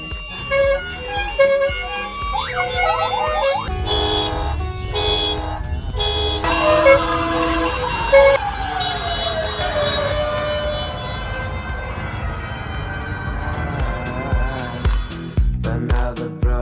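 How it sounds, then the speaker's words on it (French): Several Renault 4L rally cars in the 4L Trophy sound their horns while waiting at a ferry, a loud, overlapping chorus of toots and honks of varied pitch running continuously, with engine and crowd noise beneath. "les trophistes jouent de leur klaxon"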